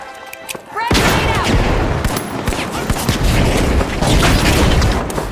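A frag grenade thrown in a video game bursts loudly after a brief quiet opening, followed by several seconds of dense, rumbling blasts and crackling gunfire.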